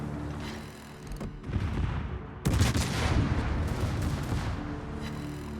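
Secondary guns on the Napoli cruiser fire in World of Warships, a dense rumbling barrage with a sharp burst near the middle, continuous and fairly loud, with no voices.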